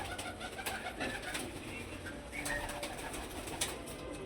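Pigeons coo softly and repeatedly close by while pecking at wheat, low throaty calls over a faint outdoor background with a few light rustles.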